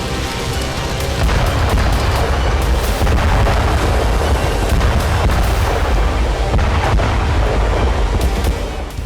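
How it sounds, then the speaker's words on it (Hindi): Continuous rumbling barrage of MLRS rocket artillery fire in the Ukraine war, dense and loud throughout with overlapping booms and no pauses. "MLRS से ताबड़तोड़ फायरिंग जारी है।"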